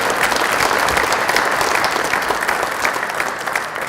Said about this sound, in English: Let's give a round of applause for both of these recipients.